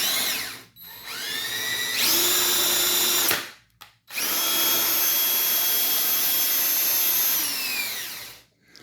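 A stepper motor on a CNC router table spins at 2,000 RPM, giving a loud, steady, drill-like whine in two long runs. The pitch glides up at each start and settles down before a brief gap, with no talking.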